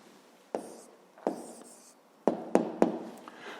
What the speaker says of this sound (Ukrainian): а зараз тоді записуємо відповідь